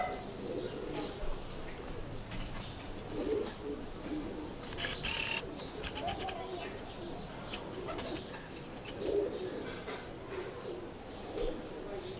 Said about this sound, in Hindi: हाँ जी, ये भी फिरोजपुरी कबूतर है जी।